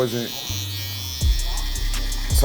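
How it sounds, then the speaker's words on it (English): A Stylecraft Rebel hair trimmer starts up after a brief voice, then buzzes loudly and steadily up close, its pitch dipping briefly when it meets hair before the hum steadies again. "this trimmer does feel really powerful"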